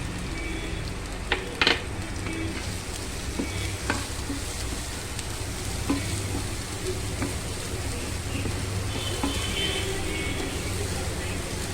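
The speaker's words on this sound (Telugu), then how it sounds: "కొంచెం బాగా ఎర్రగా వేపుకోవాలి." Urad dal, mustard seeds, cumin, onions and curry leaves fry in hot oil for a drumstick curry, giving a continuous crackling sizzle with occasional sharp pops and stirring scrapes, close and fairly even throughout.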